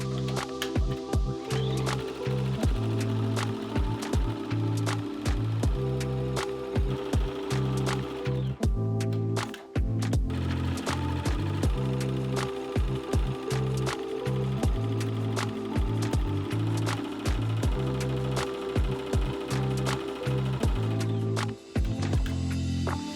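A Tajima SAI embroidery machine stitches a design, a steady, rapid mechanical chatter with fast repeating needle strikes and layered motor tones, continuous and close, with only a couple of brief pauses.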